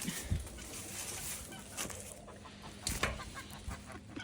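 Chickens cluck softly nearby, with occasional louder squawks and a few knocks or thumps in between.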